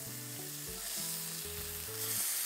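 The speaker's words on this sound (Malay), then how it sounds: "terbalik-terbalikkan kita punya ayam supaya dia masak semua rata" Chicken pieces fry in a modest wok-style pan with a little oil, a steady close sizzle running throughout as the pieces are turned, with music playing underneath.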